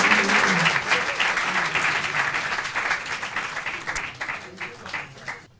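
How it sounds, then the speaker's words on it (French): A TV studio audience applauds Professor Odysseus, dense steady clapping at the start that gradually thins and fades toward the end. "On applaudit le professeur Odysseus."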